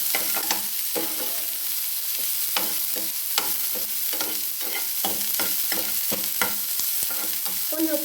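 Onions sauté lightly in a pan, a constant close sizzle broken by repeated scraping stirs of the spatula at an uneven rhythm, no voices.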